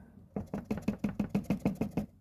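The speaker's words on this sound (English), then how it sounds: "it's loose. It rattles." A loose door mirror on a Saturn Sky rattles in a quick, even series of about a dozen sharp knocks, close and fairly quiet, with no talking.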